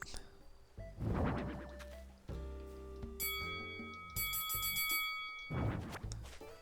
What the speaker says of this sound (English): And then this is the ring bell that I got.